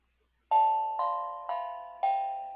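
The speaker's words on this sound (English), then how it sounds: "let me see if I can play my fart bell without putting it on camera." A fart bell, a novelty doorbell-style chime, rings four times in a steady rhythm, each tone struck sharply and then ringing out, close and fairly loud with no talking.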